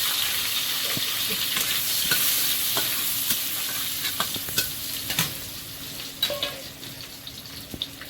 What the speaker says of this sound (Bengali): সব চিংড়িগুলো ভাজা হয়ে গেছে তেলের মধ্যে এখন শুকনো লঙ্কা রসুন কুচি